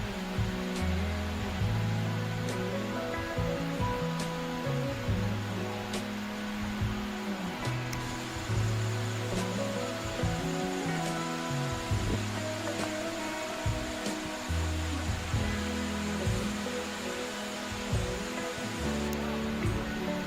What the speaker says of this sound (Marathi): तोपर्यंत तुम्ही ह्या धबधब्याचा आनंद घ्या